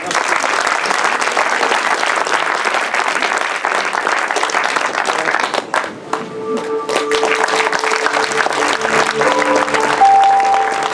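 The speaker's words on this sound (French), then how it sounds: "j'aimerais qu'on donne une nouvelle main d'applaudissement aux gens d'Éléphant" Sustained audience applause fills a film festival screening at Fantasia 2015 in Montreal, dense clapping from a large crowd that briefly dips, then gives way to a sustained musical tone and quieter room sound near the end.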